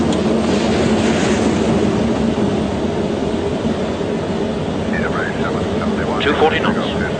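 A Concorde jet airliner roars loudly and steadily during takeoff and climb, a broad dense rumble heard from inside with faint chirping sounds near the end.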